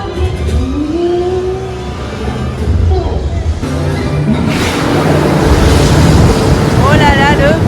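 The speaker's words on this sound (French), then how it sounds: "Oh là là, le vent." Strong wind at the Futuroscope theme park in France buffets and roars across the microphone, building louder toward the end, with a voice briefly heard beneath the gusts.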